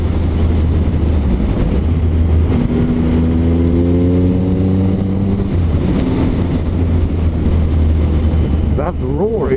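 A Triumph Speed Triple R motorcycle engine roars on a road, loud and steady, its pitch climbing through the gears as it accelerates, with a constant low rumble underneath.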